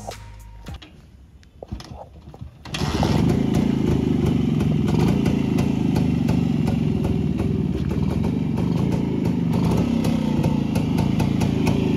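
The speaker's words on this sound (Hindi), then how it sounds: "जो पुराना जो एक मेलोडी सुनने को मिलती थी ना कि राजदूत RX100 की जो आवाज़ थी" A 30-year-old Rajdoot RX100 motorcycle, restored to factory condition, starts after a few clicks and then runs loud and close with a steady, rough two-stroke idle throughout.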